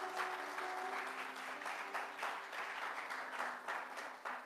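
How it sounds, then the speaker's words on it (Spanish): A church congregation applauding during a service, a sustained, dense wash of many hands clapping at a steady level throughout, fairly distant in a large room. "denle un aplauso al Señor"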